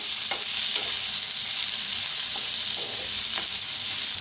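Onion frying in mustard oil, a steady close sizzle with a few soft spatula scrapes across the pan, even and moderately loud throughout, with no voices.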